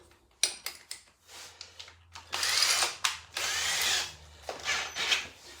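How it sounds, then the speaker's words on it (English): A power drill with a 10mm bit bores into material in several bursts, whirring and grinding on and off with short pauses, fairly close and otherwise quiet. "I take a 10mm drill."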